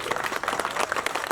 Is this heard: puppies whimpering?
no